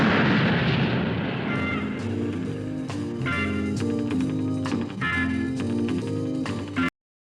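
An artillery gun fires at a staged military practice display in 1960s Canada, a loud, close boom with a long rolling rumble and crackle that fills the clip before cutting off abruptly.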